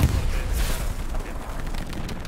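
A single heavy tank cannon shot in the World War II shooter Hell Let Loose, a deep booming blast that rumbles and fades over a couple of seconds.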